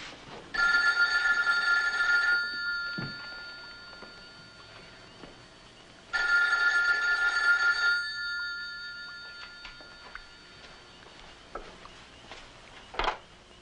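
A telephone rings in two long electronic bursts separated by a pause, followed by quieter rustling and a few small knocks.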